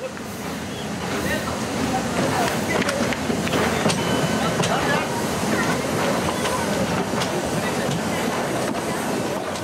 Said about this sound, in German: steht einer Fahrt nichts mehr im Wege mit einem der letzten Dampfzüge Südasiens.